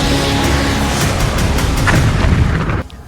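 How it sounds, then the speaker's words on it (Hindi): Loud, dense rumbling blasts in Lebanon, a continuous roar of booming explosions with crackling bursts that stays intense for about three seconds before cutting off abruptly. "लेबनान में तेज धमाके की आवाज गूंज रही है।"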